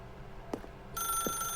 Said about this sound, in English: Alright, so, are we gonna unplug the phone or are we gonna answer it?